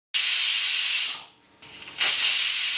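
Pressure cooker on a stovetop releasing steam after cooking pineapple: a loud, steady close hiss that dips briefly in the middle, then surges back to full strength.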